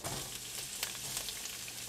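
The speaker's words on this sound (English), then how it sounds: "I'm going to start by frying the aromatics." Steady hiss and crackle of aromatics frying in hot canola oil, continuous and close, with no voices.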